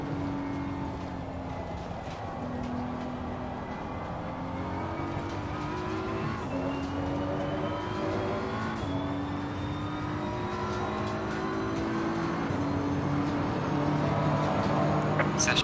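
BMW M4 GT3 race car engine in Assetto Corsa Competizione at Silverstone, a steady loud drone with rising and falling pitch sweeps through gear changes, running continuously throughout.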